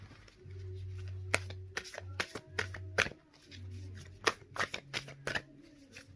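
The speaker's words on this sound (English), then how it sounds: "It's kind of hard to shuffle these cards because they stick together." Tarot cards being shuffled by hand in short riffling bursts, close and fairly quiet, with a steady low hum running underneath and no talk.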